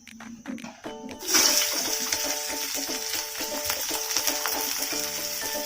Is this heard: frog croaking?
no